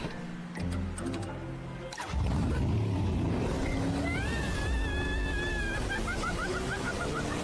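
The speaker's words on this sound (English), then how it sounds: "Then twist this throttle. And it'll just go." A motorbike engine rumbles low, then surges into a loud, steady roar as the throttle is twisted and the bike pulls away, with whining tones rising over it and no talk.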